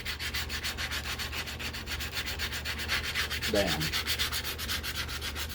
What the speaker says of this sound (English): 120 sandpaper like this, and I will just go down that edge really careful and just lightly rub it